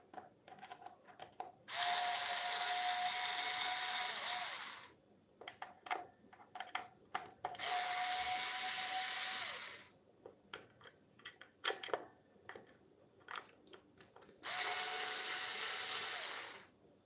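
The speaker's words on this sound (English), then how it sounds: "it'll go fast because that's your screwdriver." An electric screwdriver drives screws during a guitar upgrade, with three sustained high-pitched motor whirs of about three seconds each, separated by quieter handling clicks and taps, close and loud.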